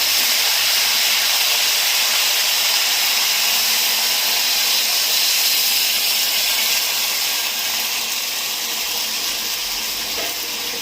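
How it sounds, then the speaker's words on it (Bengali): Water poured into a pan of hilsa fish head curry with vegetables: a steady, loud hissing sizzle that fills the whole stretch without a break, with no talking. "এবার দেবো জল।"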